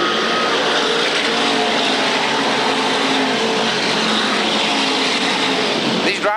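SK modified race cars roaring around the Waterford Speedbowl oval, a dense continuous wall of engine noise from a pack running side by side, loud and sustained with a shifting pitch as cars pass.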